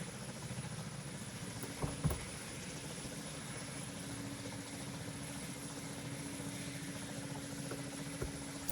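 Helicopters fly over in the PTFS video game, making a steady, continuous rotor and engine drone with a few faint taps and no talking.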